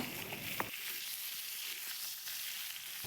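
Potatoes fry in a pan with a continuous soft hiss that dips slightly after a single small tap near the start, then carries on evenly at low volume with no talking.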